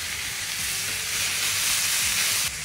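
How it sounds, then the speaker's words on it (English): Bacon, beef mince and onion sizzle loudly in a frying pan, a dense, steady hiss close up with faint popping and scraping underneath, no voices. "This bacon is popping."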